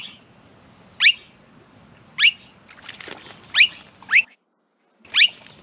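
Australian birds at a garden birdbath give five or six short, bright chirping calls spaced a second or so apart, fairly close and clear over a faint low background hum.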